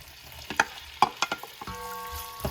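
Onions go into extra virgin olive oil in a pot over medium-high heat, with a few sharp clatters and a soft sizzle, then a brief steady tone near the end.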